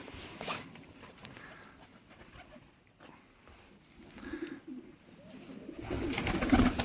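Pigeons coo softly in low, throaty bursts amid faint rustling and shuffling inside a coop, growing louder toward the end.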